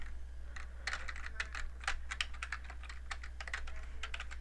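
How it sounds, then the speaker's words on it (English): Fingers type on a computer keyboard while entering text into a blank document, with a quick, uneven patter of close keystrokes and no talking. "you would just type this in"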